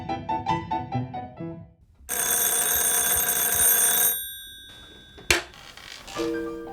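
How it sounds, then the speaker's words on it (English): A rotary phone's mechanical bell rings loudly for about two seconds with a metallic, sustained clatter, standing alone after softer chiming tones and followed by a sharp click as the handset lifts. "It has an actual bell inside, so instead of a speaker playing a digital ringtone,"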